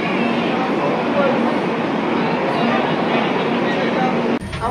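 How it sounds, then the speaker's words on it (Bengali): Darjeeling Mail train arriving at Sealdah station: a loud, continuous rolling rumble close by, with voices under it, ending in a sudden drop near the end. "ফাইনালি আমাদের দার্জিলিং মেল চলে এসছে।"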